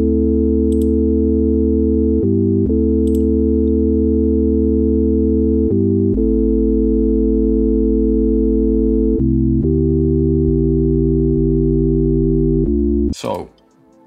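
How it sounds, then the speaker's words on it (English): A sine wave synth plays a MIDI chord progression: four smooth, sustained chords, each held around three seconds, with a soft bass tone underneath and clean transitions between them, loud and alone until a short noisy burst at the very end. "I'm just going to play it using maybe a sine wave just so the sound isn't too annoying."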